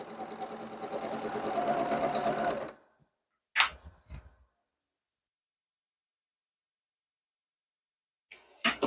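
A sewing machine stitching a bag strap runs in a fast steady whir for a few seconds and then stops, followed by a couple of brief clicks and handling noises, close and quiet.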